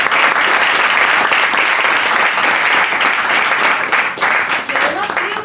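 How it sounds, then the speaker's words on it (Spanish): An audience at an open architecture talk on urbanization claps loudly and steadily for the architect, a dense, sustained round of applause that fades slightly toward the end. "Un aplauso para el arquitecto."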